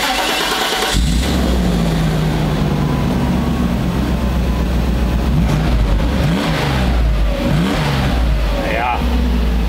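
Mercedes W140 S-Class engine starts after a brief pause, then runs close and loud with several revs rising and falling while people talk over it.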